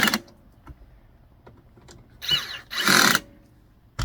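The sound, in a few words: tightening screws on counter extension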